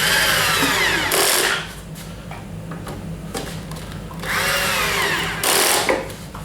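A cordless drill on a weak, dying battery drives screws into a pre-drilled wooden toboggan, with two sustained whirring bursts near the start and end separated by quieter handling noise.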